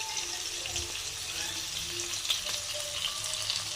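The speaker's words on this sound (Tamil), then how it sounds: "நம்ம வந்து இறாலையும் பொரித்து முடிக்க போகிறோம்." Prawns fry in hot oil with a continuous, crackling sizzle. A dense, steady hiss holds at close range throughout, with a few small pops along the way.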